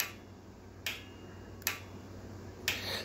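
A solenoid on a DIY lumber mill chain lift, energized at 24 volts, clicks sharply three times at irregular intervals over a quiet, low background hum.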